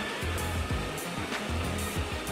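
A cartoon vacuum cleaner runs with a steady loud whooshing roar and a pulsing low motor drone throughout.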